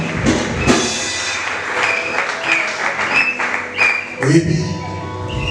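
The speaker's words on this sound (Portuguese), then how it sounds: "penso que a igreja aplaude fortemente para o Senhor." A church congregation applauds during a church dedication service, a dense patter of clapping that swells and fades while voices speak over it.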